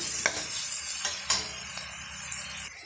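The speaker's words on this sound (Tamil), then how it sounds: "ஹை ஃப்ளேமில் வச்சு நம்ம வதக்கி விட்டுக்கலாங்க" Onions sautéing over a high flame in a pan with mustard seeds, a steady close sizzle broken by several sharp stirring scrapes of a spoon.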